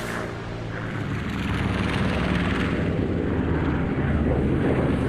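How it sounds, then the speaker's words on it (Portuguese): WWII bomber aircraft flying back to base after a raid, a steady broad engine drone that swells slightly in the first second and then holds loud and continuous, with no voices. "O grupo de bombardeio retorna à base apenas com alguns arranhões da artilharia antiaérea."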